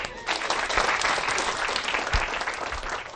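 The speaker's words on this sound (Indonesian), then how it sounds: "Tepuk tangan lu." A studio audience at an Indonesian religious TV show claps steadily and densely throughout, a loud continuous wash of applause with no voices over it.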